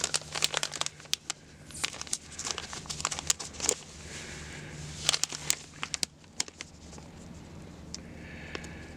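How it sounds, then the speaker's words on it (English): A plastic bag of gold paydirt being ripped open, close crinkling and sharp tearing crackles in irregular bursts, fairly quiet overall and without talk. "let's get this ripped open and see what it looks like out of the bag"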